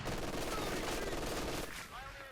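Light machine guns fire in Company of Heroes 2, sustained rattling bursts over dense battlefield noise that thin out near the end, with a commentator's voice faintly underneath.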